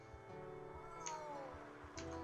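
A cat meows twice in a video game, short, faint, higher-pitched calls over a quiet background with soft ticking and low thumps.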